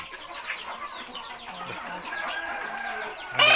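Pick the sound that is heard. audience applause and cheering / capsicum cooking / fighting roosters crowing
fighting roosters crowing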